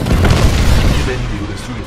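Titan burst core firing in Titanfall 2, a loud booming barrage of heavy blasts with a deep rumble, under a game voice announcing the ability.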